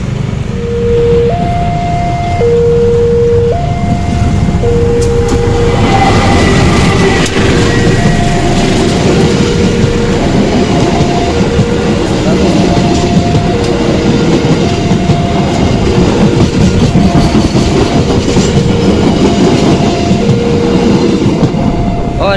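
At Solo Balapan station in the morning, a train passes with a loud, continuous rumble and rail clatter close by. A repeating two-tone chime melody plays over the steady roar throughout.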